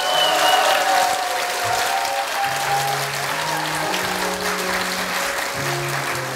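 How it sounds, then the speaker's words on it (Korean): Audience applause for young performers at a musical theatre club showcase, a dense steady wash of clapping throughout with faint sustained tones underneath. "훌륭한 배우님께 다시 한번 뜨거운 박수 부탁드리겠습니다"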